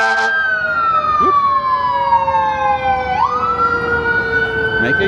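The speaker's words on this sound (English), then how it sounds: "you got a fire truck, and the fire truck's about to make a U-turn." A fire truck siren wails loud and close on the Las Vegas Strip, a long falling tone that dips and then sweeps back up as the truck makes a U-turn, with traffic rumble beneath.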